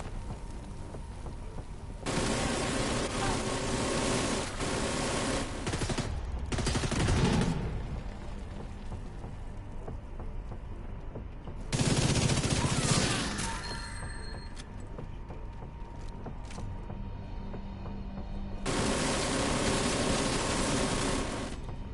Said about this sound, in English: Firing! Grenade out!